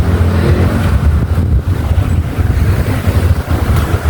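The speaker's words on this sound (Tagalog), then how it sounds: "Lakas ng hangin" Strong wind roars steadily, buffeting the microphone with loud low rumbling gusts throughout, no voices.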